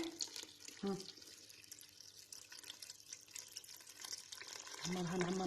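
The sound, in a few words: filling a container with tap water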